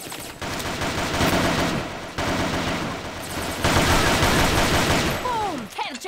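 Dense gunfire from an online shooter: loud rapid bursts of automatic fire blend into near-continuous shooting for several seconds, with a few short whooshing effects at the end.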